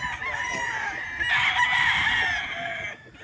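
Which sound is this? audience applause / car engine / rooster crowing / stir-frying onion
rooster crowing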